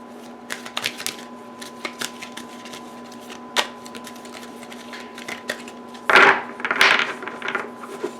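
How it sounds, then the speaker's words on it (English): Tarot cards are shuffled close up: soft scattered flicks and taps, then a couple of louder riffling bursts near the end, against a faint steady hum. "So I will start by shuffling the divination cards to get one card for Leo."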